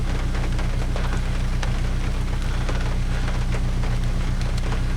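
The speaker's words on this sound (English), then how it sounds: "It's raining right now" Heavy rain falls steadily outdoors, a dense, continuous patter with scattered louder drops over a constant low hum, no voices.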